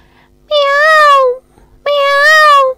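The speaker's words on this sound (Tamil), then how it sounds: "நம்ம தேசிய பறவை மயில், அதோட ஒலி பாத்தீங்க அப்படின்னா ஒரு பூனை கத்துற மாதிரி தான் இருக்கும்" An Indian peafowl (peacock) gives two drawn-out, cat-like wailing calls, each about a second long, loud and close, with a short quiet gap between them and no talking.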